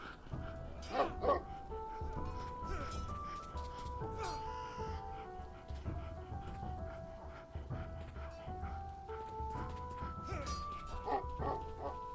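A dog barks in Shadow Legend VR, a few yips and woofs near the start over a melodic game soundtrack, with faint whimpering sounds mixed in and no voices.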